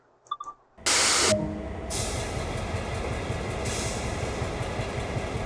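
Train in the video game Train Sim World 3 rumbling steadily during yard switching, with a sharp hiss of air releasing near the start over a continuous low engine and rolling drone.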